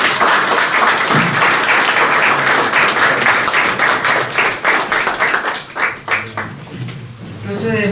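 An audience at an academy induction ceremony for a new corresponding member breaks into loud, sustained applause, which thins into scattered claps near the end.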